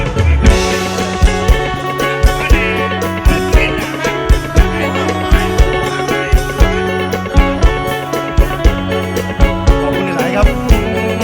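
A plucked Thai phin lute plays a busy, rhythmic Ubon-style folk melody with steady accented beats, bright and close, with no voices.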